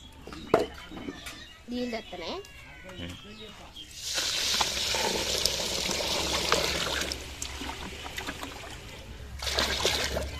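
Water is poured over rice flakes (poha) in a container as they are soaked. A steady, moderately loud pouring and splashing runs for several seconds after brief clatter at the start, and faint talk can be heard.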